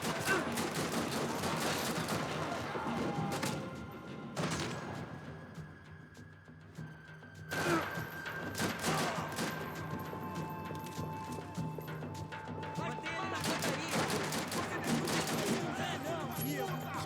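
Pistol gunfire in Max Payne 3, repeated sharp shots in irregular bursts throughout a noisy firefight, with a brief lull midway before the shooting resumes.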